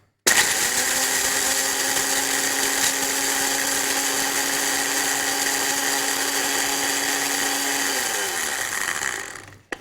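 An electric grinder pulverizes a spice mix of fennel, cumin, black pepper, cinnamon and cardamom, a loud steady whirring motor with a gritty rattle that runs unbroken for about eight seconds before spinning down.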